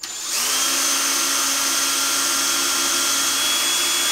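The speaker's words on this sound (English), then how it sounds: "I'm going to use my drill, and I'm going to see if I can get this to spin" A power drill spins up almost at once and holds a loud, steady whine while turning a classic motorcycle speedometer, with no voices.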